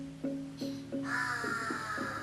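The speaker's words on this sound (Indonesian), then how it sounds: "Ya kan gagak yang berbunyi." Crow caws, with three sharp calls over a steady low hum and then a louder, denser harsh cawing stretch, close and clear, in a recording made during a conversation about kethoprak theatre.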